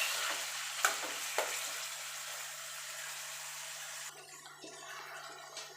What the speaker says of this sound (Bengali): এখানে যে কচুর শাকটা সিদ্ধ করে রেখেছিলাম সেটা দিয়ে দেব